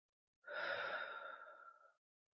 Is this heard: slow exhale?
yes